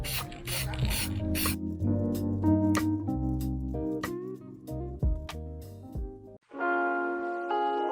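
Aerosol spray paint hisses in short bursts while the engine bay and cross member of a Toyota AE86 are painted during restoration, heard over music with a clear final spray near the end.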